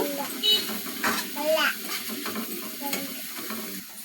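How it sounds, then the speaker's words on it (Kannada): Spices frying for egg bhurji are stirred in a pan with a spatula, giving soft scraping strokes over a low sizzle, with a voice talking over the cooking. "ಸ್ವಲ್ಪ ಲೈಟಾಗಿ ಮಿಕ್ಸ್ ಮಾಡ್ಕೊಳ್ಳೋಣ"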